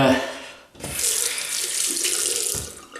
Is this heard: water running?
yes